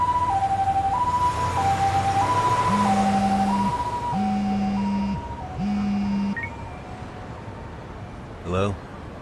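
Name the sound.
ambulance siren, from a video game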